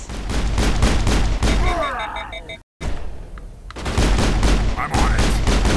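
Gunfire in the video game Mass Effect, played on Hardcore, rattles in rapid automatic bursts, loud and close, broken by a sudden silent gap and a quieter stretch before the shooting resumes.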